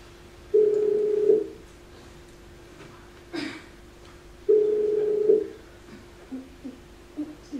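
Telephone ringback tones before an answering machine picks up: two long, steady electronic tones separated by a pause, with small clicks and faint noises after.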